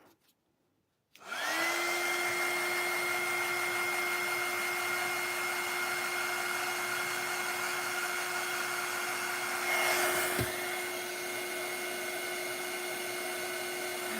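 A handheld hair dryer blows steadily to dry paint on a mixed media book cover, starting abruptly after a second of quiet and holding a loud, constant whine with a brief shift near the end.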